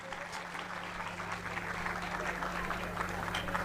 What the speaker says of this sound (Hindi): आप लोग जोरदार तालियों के साथ उनका स्वागत करिए